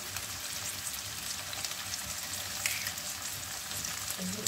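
Egg, onion, garlic and sausage fry in a pan with a soft, steady sizzle and crackle, fairly quiet and continuous, with no voice over it.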